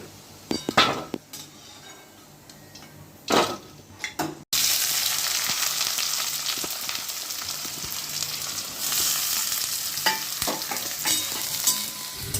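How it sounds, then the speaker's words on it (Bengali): Chopped onions are stirred in a wok with a few metal scrapes and clinks, then land in hot oil with a sudden loud sizzle that stays strong and dense to the end, with occasional stirring knocks. "পেঁয়াজ কুচিটা দিয়ে দিলাম। পেঁয়াজটাকে একটু ভালো করে ভেজে নেব।"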